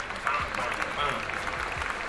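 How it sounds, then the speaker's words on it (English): Applause from a podcast studio audience rattles steadily for about two seconds, a dense clatter of claps with people talking over it. "Hit the claps on that, man."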